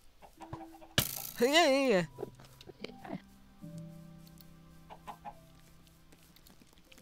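A chicken clucks in the Minecraft modpack Resonant Rise: one loud, rising-and-falling cluck up close, followed by quieter game sounds and a brief spoken word.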